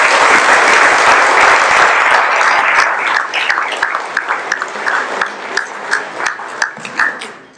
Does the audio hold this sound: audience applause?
yes